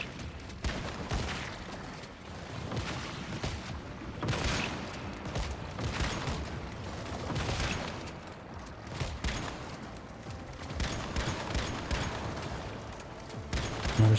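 Shotgun blasts fire again and again in the survival shooter Once Human, each heavy boom spaced a second or two apart over a continuous bed of game noise, loud and close.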